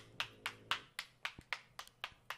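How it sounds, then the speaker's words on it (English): A character in the visual novel Steins;Gate 0 claps, about ten sharp, evenly spaced hand claps, quiet and close, with no talk over them. "He started to applaud."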